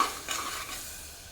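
Spice paste for a bottle gourd and prawn curry, loosened with a splash of water, is stirred and fried in a pan, giving a brief, close, steady sizzle with the scrape of stirring.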